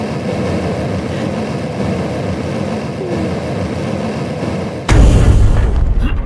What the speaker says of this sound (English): That's the propeller.